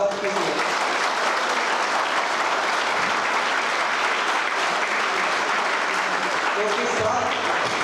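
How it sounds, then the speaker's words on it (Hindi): Vigorous applause from a seminar audience welcoming a professor at a national seminar, a steady, dense roar of many hands clapping at close range that continues unbroken throughout. "मैं चाहूंगा कि आप लोग जोरदार तालियों से एक बार सर का स्वागत कीजिए"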